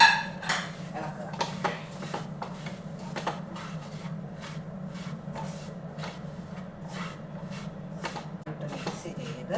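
A spoon scrapes and taps repeatedly against a pot while roasted rice flour is stirred into a mixture for banana ari unda, a steady rhythm of close, light metallic clinks over a low background hum.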